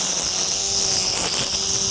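An EGO battery-powered string trimmer runs close by with a steady, high-pitched electric whine and buzz that holds level throughout. No one speaks over it.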